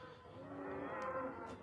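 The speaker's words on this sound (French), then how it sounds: "vous les entendez, les vaches" Cattle on the move during a transhumance, lowing in a blended herd murmur with harmonic moos layered together at middle distance, steady and moderately loud throughout.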